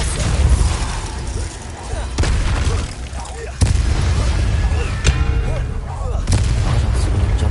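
A spell being cast in a Harry Potter video game, with sharp magical blasts and booming impacts recurring over several seconds amid battle noise, while a voice calls out incantations.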